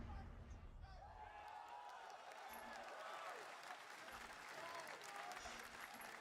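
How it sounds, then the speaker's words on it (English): A faint crowd at a Summer Game Fest 2024 gaming showcase cheers and applauds in a continuous, distant wash of clapping, mixed with soft hubbub. "Cheers and applause"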